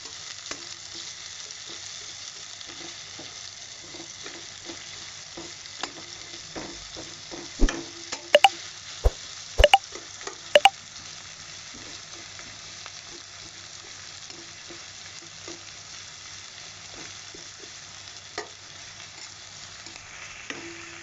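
Onions with a little salt fry in a pan under a steady, close sizzle, with soft stirring scrapes throughout and a few sharper clanks of the spatula midway; no one speaks.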